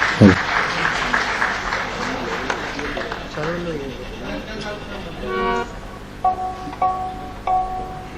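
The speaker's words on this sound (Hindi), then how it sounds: "जोरदार तालियां बजाइए भाई" Audience applause at a live music event, a concert in Aurangabad, rising as a broad clapping wash at the start, with a voice speaking over the crowd and scattered tonal sounds later.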